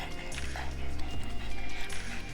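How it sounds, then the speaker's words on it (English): A happy dog whimpers and yips in short excited bursts close by, with snuffling and movement between them. "Happy dog."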